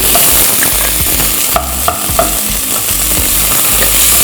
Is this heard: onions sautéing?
yes